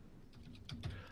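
A few quick, soft clicks from a computer keyboard being typed on, faint and close, lasting only about a second.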